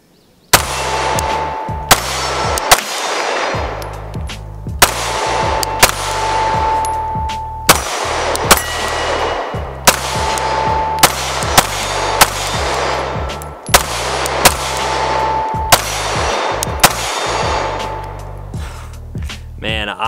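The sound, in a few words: Glock 19 pistol shots hitting steel targets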